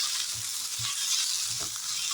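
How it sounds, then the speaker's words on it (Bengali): Pieces of boiled potato fry in hot oil in a pan, giving a dense, steady sizzle up close with a few soft low thumps as they shift, and no talking. "সেদ্ধ আলুগুলো আমি একটু ভাজছি"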